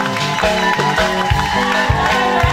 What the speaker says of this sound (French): Applaudissons bien-aimés.